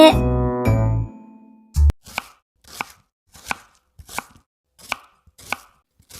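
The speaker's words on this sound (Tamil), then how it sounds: "அந்த இனிப்பான மாம்பழங்களை ராணிக்காகவும் வெட்ட ஆரம்பிச்சது" A knife chops sweet mangoes in seven crisp, evenly spaced strokes, close and distinct, just after a short ringing musical chime.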